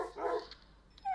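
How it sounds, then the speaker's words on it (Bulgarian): A dog barks once quickly and faintly among backyard dog houses, followed by a short higher yelp near the end, with no talking. "Нали, това е от куче."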